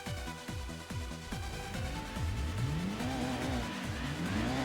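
A Gran Turismo 2 car engine revs up and down repeatedly during a four-wheel-drive challenge, climbing through gears with a steady mechanical whine; no voices.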